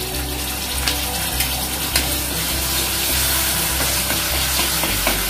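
Chilli powder and ginger-garlic paste being mixed in an oil-lined pan for a paneer grilled sandwich filling, a close, constant sizzle with light scraping strokes and a faint low pulsing hum underneath, no voices.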